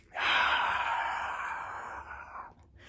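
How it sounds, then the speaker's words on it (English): A person takes a deep breath in and out, a long, close, airy exhale that fades out gently and is heard alone. "Take another deep breath in and out."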